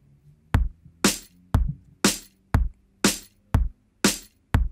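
A steady programmed drum pattern alternates deep kick thumps with crisp, bright snare hits in an even, repeating rhythm, with nothing else playing.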